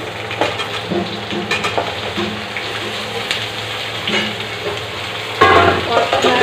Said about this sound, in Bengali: আলু একসঙ্গে ভেজে নেব।